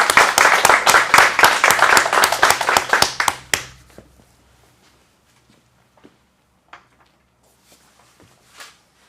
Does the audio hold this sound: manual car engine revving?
no